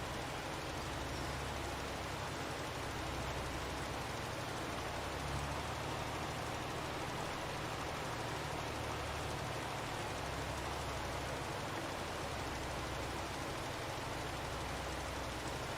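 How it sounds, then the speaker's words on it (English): Steady rain falls in Farming Simulator 22, a soft, constant hiss over a low rumbling bed that carries on evenly with no voices. "there's something therapeutic about listening to the rain."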